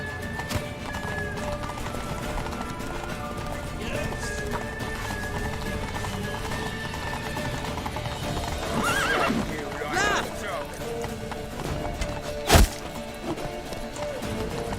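Horses gallop in The Witcher 3: Wild Hunt, a dense, rapid hoofbeat rhythm while neighing and whinnying break through, with voices calling over the commotion.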